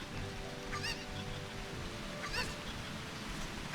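A cucco chicken in Zelda: Ocarina of Time squawks twice in short, separate bursts over a steady, noisy game background.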